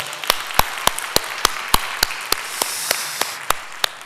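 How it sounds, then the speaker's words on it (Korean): A church congregation claps together during a Sunday morning worship service, giving sharp, evenly spaced claps in a steady rhythm that stay moderately loud and close for the whole stretch. "우리 하나님께 감사 영광의 박수 올려드리겠습니다"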